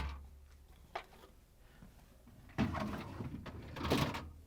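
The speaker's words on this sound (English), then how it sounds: "we can reach in and pull the storage drawers out" Samsung refrigerator crisper storage drawers being pulled out and lifted, giving soft plastic sliding scrapes and knocks, with a brief thud early on and two louder rattling slides near the end, close up with no talk.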